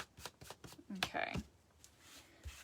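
A cloth wipes excess stain off a wooden birdhouse in a few quick, soft rubbing strokes close by, with a voice heard briefly.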